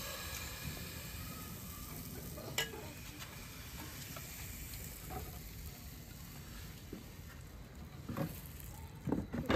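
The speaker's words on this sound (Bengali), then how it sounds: "আমার তাওয়া গরম হয়ে গেছে আমি এবার পাটিসাপটা পিঠে বানানোর জন্য" Rice-flour batter for patishapta pitha sizzling on a hot tawa, a soft continuous crackle with scattered faint clicks and taps, growing a little busier toward the end.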